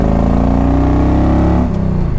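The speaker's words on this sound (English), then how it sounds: "This Evo motor runs great." A 1997 Harley-Davidson Ultra Classic with an Evo V-twin rumbles steadily while riding, a loud low droning engine note that holds even, then dips slightly in pitch as the throttle eases near the end.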